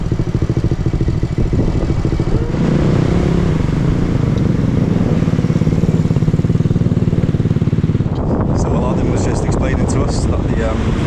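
A motorbike taxi rides along a beach in The Gambia, its engine droning steadily and close under heavy wind buffeting, easing off near the end as people's voices break in.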